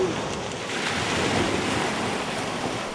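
Sea waves wash onto the shore of Gorgona Island in a loud, continuous surf roar with gusty wind noise over it. No voices are heard.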